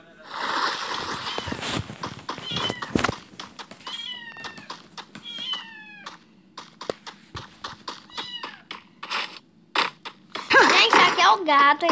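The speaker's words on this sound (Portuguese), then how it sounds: "Gato, esse gato maldito." A domestic cat meows repeatedly and loudly up close, a run of short cries with rising and falling pitch, mixed with sharp clicks and knocks and a burst of louder noise near the end.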